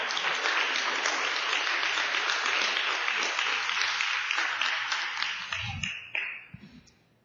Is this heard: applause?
yes